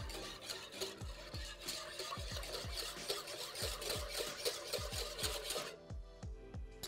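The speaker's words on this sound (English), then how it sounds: "Let's grab a whisk and just mix this together until it is fully combined." A whisk beats a pumpkin spice latte mixture with vanilla extract in a bowl, producing fast, steady rhythmic scraping and clinking strokes at close range with no talking.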